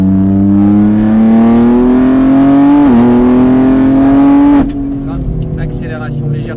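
A car accelerating hard on the Mireval race track: a loud, close engine note climbs steadily, drops briefly at a gear change and climbs again, then the throttle is lifted and the engine falls to a lower, rougher sound.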